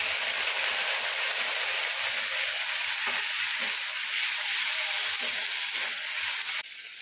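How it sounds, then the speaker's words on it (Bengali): Ground ginger-cumin paste with torn green chillies sizzles in a hot pan, a loud steady frying hiss throughout with occasional soft stirring scrapes, dropping abruptly quieter near the end. "দেখুন মশলা কষানো হয়ে গেছে"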